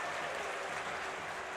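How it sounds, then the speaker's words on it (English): A men's basketball crowd at a Maryland versus Georgetown game roars in protest, demanding a travel call, a dense, sustained wash of shouting and clapping at even loudness with no clear single voice. "obviously crowd demanding a travel"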